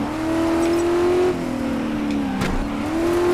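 A rally car engine in the Dirt 5 racing game drones loudly and continuously, its pitch climbing through the revs, dropping at a gear change and rising again, with a brief scrape and tire noise midway and no talk.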